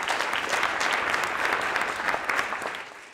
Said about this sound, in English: If we could give a big round of applause to Dean